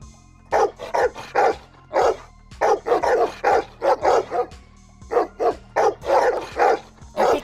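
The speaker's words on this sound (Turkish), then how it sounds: "tamam havlama oğlum tamam sakin ol sakin ol" A dog in the Minecraft video game barks close and loud in rapid repeated bursts, several short barks per burst separated by brief pauses.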